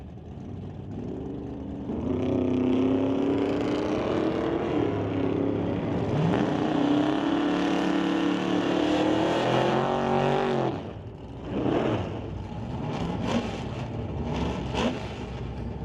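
A 1968 AMX and a 1955 Meteor drag race: two engines roar loud and sustained, rising in pitch under acceleration, then fade after a sharp cutoff, followed by fainter passing engine noise.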